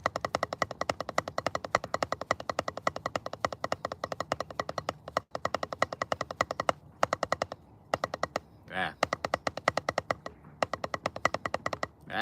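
Rapid, evenly spaced drum strokes ring out in quick bursts, with brief pauses between runs and a sharp crash near the middle.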